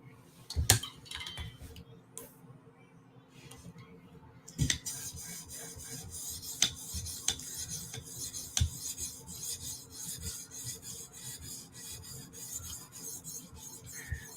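A knife being sharpened by hand to remove a chip from its edge, giving steady rasping strokes with sharp metallic scrapes and occasional clinks, close and continuous, with no talking.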